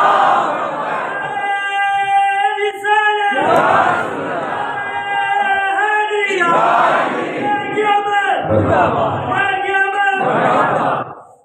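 A large crowd at a religious gathering in a mosque chants the slogan Nara-e-Takbeer in loud, repeated rhythmic bursts of massed voices, each shout swelling and breaking off in a steady call-and-response cadence.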